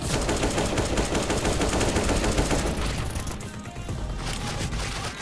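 Gunfire in the video game CS:GO on the Dust 2 map: dense, loud automatic bursts that overlap continuously, then thin out and ease off toward the end.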